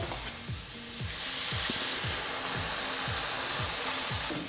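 Steady loud sizzle and bubbling as chicken broth hits a hot pan of flour-thickened mushroom sauce, close and continuous, alone.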